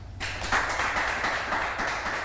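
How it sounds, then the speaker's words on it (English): An audience at a reality TV show applauds the host, a dense, steady burst of clapping from many hands that starts abruptly and continues evenly throughout. "please a round of applause for Miriam"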